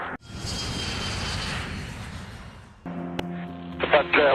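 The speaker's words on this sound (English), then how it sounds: "The Alaska Airlines MD-83 zooms over the California coast." An Alaska Airlines MD-83 airliner over the California coast gives a loud, broad engine roar that cuts off abruptly, followed by a different tonal hum with some noise.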